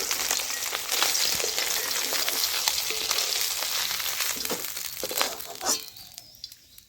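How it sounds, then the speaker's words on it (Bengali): Small chakra fish fry in oil in a pan, giving a close, steady crackling sizzle with a few clicks and knocks as they are lifted out, the hiss thinning toward the end, and no voice present. "চাকরা মাছগুলোকে হজম করে ভেজে নিলাম এখন তুলে নিচ্ছি"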